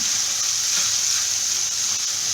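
Masala mixed with musallam powder fries in a pan for a whole-cauliflower roast, giving a steady, close, even sizzle with no pauses and no talking.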